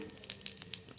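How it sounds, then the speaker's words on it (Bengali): Whole cumin seeds dropped into hot mustard oil in a kadai give a faint, brief crackling sizzle with scattered light pops. "গোটা জিরে ফোড়ন"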